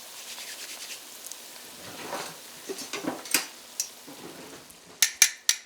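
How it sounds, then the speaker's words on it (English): Dough frying in oil for Navajo tacos gives soft crackling and spattering that builds gradually, with a few louder pops and sharp clinks toward the end; quiet overall. "Right into the oil. It's going to bubble. It's going to sizzle."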